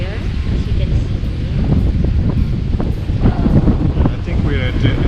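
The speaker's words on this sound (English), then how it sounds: "It's quite wavy and windy." Strong wind buffeting the microphone on a beach in Boracay, a steady loud roar with gusts, likely surf mixed in, and people talking over it throughout.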